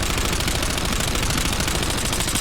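Rapid automatic gunfire in a video game, fired during a recoil-control grouping test, with a dense, continuous, loud burst that holds steady and unbroken from start to finish with no talking.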